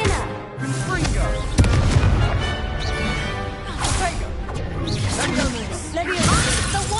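In a Harry Potter video game, the Confringo fire spell lets off a sharp blast with whooshing bursts and booming impacts amid busy combat effects, with voices speaking over the action.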